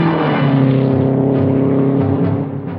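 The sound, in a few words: 1960 Indy 500 race cars speeding on the track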